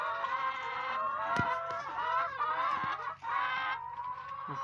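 Chickens cluck and call steadily, close by, as the flock eats from a sack of lettuce, with occasional sharper squawks over the continuous clucking.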